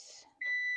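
A kitchen oven signals it has finished preheating with a single steady electronic beep, clear and fairly close, sounding alone after a moment of quiet.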